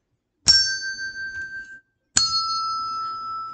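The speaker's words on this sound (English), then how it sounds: "I have two bells here." Two bells ring one after the other, each a clear sustained tone left to decay, one a higher note and the other a lower note.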